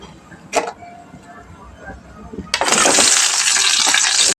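Onion hits hot oil in a pan for mango chutney, bursting into a loud, steady sizzle about halfway through after a quieter stretch with a light clatter.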